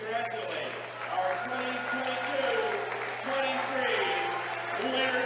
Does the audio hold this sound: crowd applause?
yes